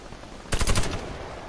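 A quick rattling burst of automatic gunfire from a shooter video game, several rapid shots packed into half a second, loud and close against a low background hum.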